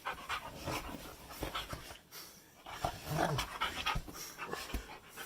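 A happy puppy pants rapidly and steadily at close range, quick rhythmic breaths with a few soft whimpery sounds mixed in.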